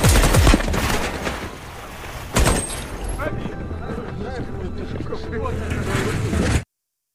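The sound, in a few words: Kalashnikov AK-47 rifle test-fired in a film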